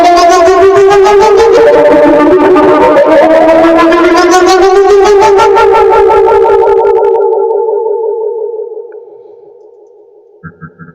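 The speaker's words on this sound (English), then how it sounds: "How about a horror riser? This is another synthesizer based sound." A synthesizer horror riser sound effect: a loud, sustained, pulsing tone that slowly swells and rises in pitch, then thins out and fades, with a few faint clicks at the end.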